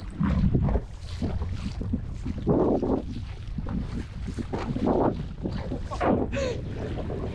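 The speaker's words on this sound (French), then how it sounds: "Vent de face là, avec des vagues." Headwind and waves at sea aboard a small fishing boat off Brittany, heard as steady, loud wind buffeting the microphone over the wash and slap of water against the hull, continuous throughout with no talk.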